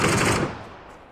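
A short, loud burst of rapid automatic gunfire in the video game PUBG, a fast rattling volley that cuts off and fades within about a second.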